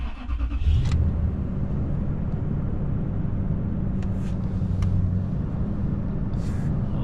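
A Toyota Tundra engine, just fitted with a new mass airflow sensor, cranks briefly and fires, then settles into a steady, rumbling idle close by, with a few faint clicks over it.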